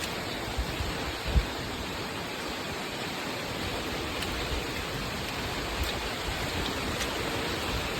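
Dense, steady rush of heavy monsoon rainfall in Konkan, broad and unbroken throughout, with a few faint knocks in the background.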